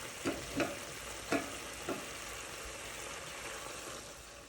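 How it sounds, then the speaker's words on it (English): Cut-up chicken pieces sizzle in a pan, a quiet steady frying hiss broken by a few soft clacks as the meat is stirred. "Now add in your cut up chicken and cook. Stir, cook low and slow."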